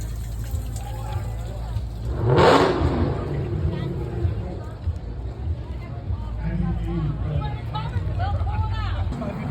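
Ford Mustang Mach 1 engine revving once briefly at a car meet, a short loud burst rising over steady crowd chatter and background engine rumble.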